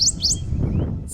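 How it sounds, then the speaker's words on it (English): Birds sing nearby in a few quick, bright chirps over a low background murmur, and no one speaks. "Study confirms the benefit of hearing bird songs."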